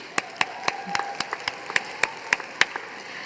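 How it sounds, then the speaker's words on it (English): Applause at an awards ceremony comes as sparse, individual claps, a dozen or so sharp hand claps spaced unevenly rather than a full ovation, fairly close and with no voices over them. "big round of applause for SOC Entertainment"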